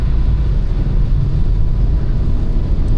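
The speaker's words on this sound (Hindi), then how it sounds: "आवाज़ तो आती है भाई, इंजन की आवाज़ तो आती है" A Tata Altroz car engine drones low and steady, heard from inside the car as a constant rumble while accelerating.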